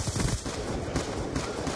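MTAR assault rifle in Call of Duty: Black Ops 2 spraying a rapid, continuous burst of automatic fire, loud and close, with crisp repeated shots packed together for nearly two seconds.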